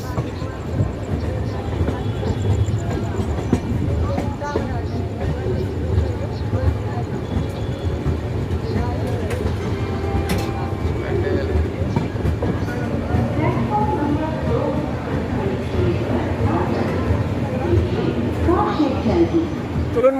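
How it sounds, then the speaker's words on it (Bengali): The Howrah Katihar Express rolling into platform four at Bandel Junction, a continuous rumble with clickety-clack of wheels under wagons, heard from onboard with people talking throughout. "ব্যান্ডেল চার নম্বর প্ল্যাটফর্মে আসলো ব্যান্ডেলের কাঠিয়ার এক্সপ্রেস"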